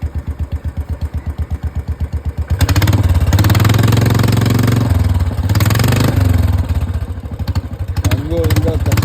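Open-piped Royal Enfield engine with no silencer thumps at a slow idle, then is revved into a loud, sustained roar that dips and rises again, right up close, with a voice speaking over it.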